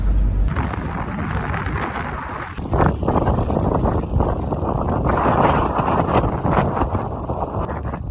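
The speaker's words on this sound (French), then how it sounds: "Tellement le vent il était incroyable, il faisait tellement froid." Strong, cold wind buffets the microphone throughout a bicycle ride, a loud continuous roar and rumble with gusty surges and no talking.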